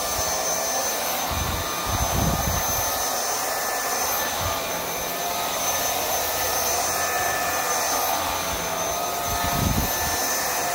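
A Vaclab X11 Pro cordless vacuum cleaner runs on carpet with a loud, steady high-pitched motor whine. Low thumps mark the head moving back and forth, close up and with no talking.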